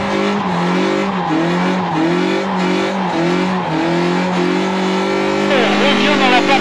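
A car drifting doughnuts around a cone at a gymkhana contest: a loud engine revving in rhythmic surges with sliding tire squeal, close by, while someone talks over it.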